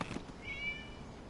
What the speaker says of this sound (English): It was a cat. It was just a cat.